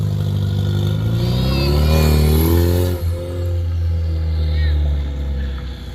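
A car with no power steering accelerates hard and pulls away, its engine revving loud and rising before a brief skid, then the engine note settles and fades.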